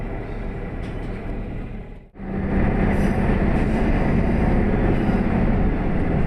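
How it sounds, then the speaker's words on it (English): A passenger train runs along the west bank of the Nishikigawa River on the Nishikigawa Clear Stream Line in Yamaguchi, with a steady close rumble of wheels and motor that dips briefly, then returns stronger and continuous. "The train is running along the west bank of the Nishikigawa River."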